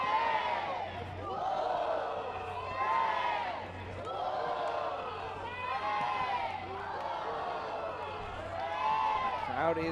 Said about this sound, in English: Crowd is quite happy about that second goal here for Chattanooga.